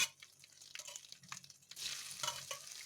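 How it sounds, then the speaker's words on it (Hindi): Sliced lotus stem sizzles as it fries in a pan with a spoonful of red chilli powder, a steady crackling hiss that builds louder in the second half, broken by brief stirring scrapes. "हम अब इसमें नदरू फ्राई करेंगे"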